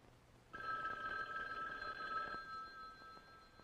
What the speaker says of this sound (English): I don't like the sound of the phone ringing, do you?